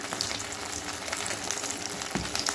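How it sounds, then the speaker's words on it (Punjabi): Bread rolls frying in hot oil give a steady, dense sizzle with faint crackles, continuous and fairly close. "ਆਇਲ ਵੀ ਗਰਮ ਹੋ ਚੁੱਕਾ ਅਸੀਂ ਇਹਦੇ ਵਿੱਚ ਆਪਣਾ ਬ੍ਰੈਡ ਰੋਲ ਜਿਹੜਾ ਪਾ ਦਿੱਤਾ ਹੋਇਆ"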